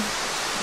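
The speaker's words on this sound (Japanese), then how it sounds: "ちょっと滝の音で多分だいぶうるさいと思うんですけど" The Tsugane-otoshi waterfall in Nagasaki roars as a loud, unbroken wash of falling water, close and steady for a brief moment with no voices over it.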